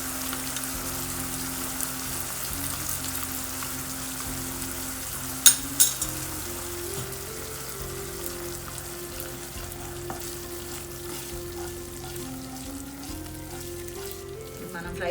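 Fried chicken pieces for a restaurant-style chicken starter being added to a pan and sizzling, a soft, steady frying hiss with a couple of sharp clinks of a utensil partway through.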